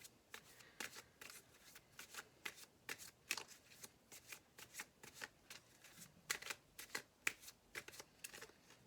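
Tarot cards being shuffled and pulled by hand: quick, papery riffles and flicks repeating in uneven bursts, close and fairly soft, with no talk.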